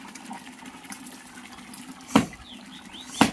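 Water poured into a pipe during laundry washing, with a steady trickling flow and two sharp splashing gushes near the end.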